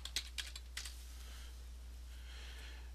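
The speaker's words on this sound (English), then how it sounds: "I'm going to type in" Three quick keystrokes on a computer keyboard tap out close and soft, followed by a faint steady hiss with no further typing.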